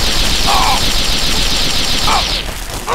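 Enemy gunfire in Fallout 3: loud, dense, rapid automatic shooting that rattles on continuously at close range, with a few sharper impacts over the barrage.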